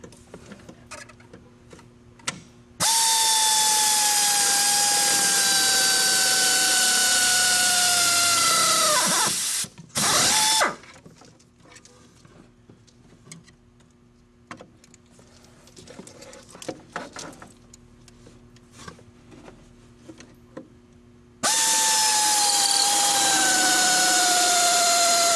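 A drill bores access holes through a billet motor plate for an FTX Polaris Pro chassis, a steady whining run of several seconds that stops and then starts again later, close and loud, with quieter handling noise in between.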